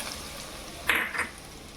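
Spices for a tempering hit hot oil in a quiet kitchen, a faint background hiss broken by a brief burst of sizzling crackle that flares and fades within half a second.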